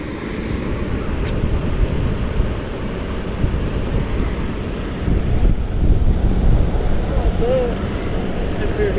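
Strong wind gusting outdoors by a dam during a fishing outing, a steady loud low roar buffeting the microphone, with lapping water beneath and a stronger gust swelling toward the end.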